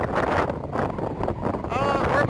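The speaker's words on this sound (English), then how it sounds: "Very windy." Strong gusting wind at a beach with the tide out buffets the microphone in loud, uneven bursts, with a voice briefly audible near the end.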